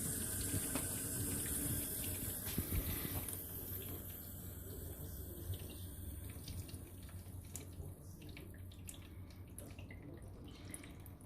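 Water runs steadily from the outlet of a Filmtec reverse osmosis water purifier membrane into a container. It is a soft, continuous trickle with faint splashing, quiet and close, with no voices over it.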